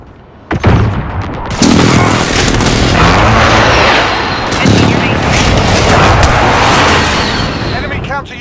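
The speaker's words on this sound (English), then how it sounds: "Be advised, friendly precision airstrike inbound." Precision airstrike explosions boom in a Call of Duty match, a sharp blast followed by a heavy rolling barrage of loud, dense detonations and rumble that carries on for several seconds.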